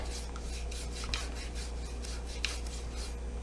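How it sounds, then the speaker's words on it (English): Light scrubbing inside a washing machine during a DIY repair: soft, repeated rasping strokes, faint and close, with no voices. "We'll give a light scrub in here too."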